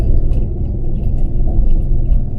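A vehicle drives along the Dalton Highway, a gravel road with heavy industrial traffic, giving a loud, continuous low rumble of tires and engine inside the cab, with no talk.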